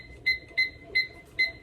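A kitchen timer gives four quick, high electronic beeps at an even pace while being set during chicken breast canning, clear and close over faint kitchen background noise.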